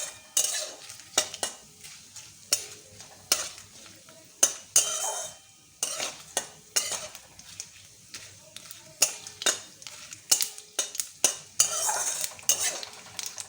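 Whole spices tempering in hot oil in a pan for a vegetarian jackfruit kofta curry, with steady soft sizzling and repeated clinks and scrapes of a spoon stirring against the pan.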